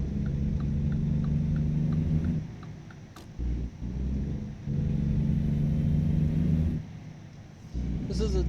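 A truck engine in the American Truck Simulator video game hums at a steady low rumble, easing off and returning in a couple of dips as throttle changes, loud and close.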